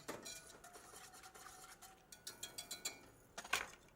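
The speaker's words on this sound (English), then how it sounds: "I'm going to make sure that I have all of that roux or that thickener off of the bottom of the pot" A metal spoon scrapes and taps along the bottom of a cooking pot to lift roux, giving quiet clinks and a run of rhythmic scraping strokes toward the end.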